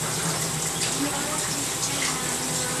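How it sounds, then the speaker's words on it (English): Cold tap water pours steadily over cooked boba pearls sitting in a strainer beneath the faucet, a continuous close splashing rush with no breaks. "just let the cold water run over the balls to cool it down"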